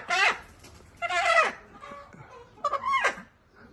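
Three bursts of loud, nearby clucking and squawking from poultry, separated by short quiet gaps.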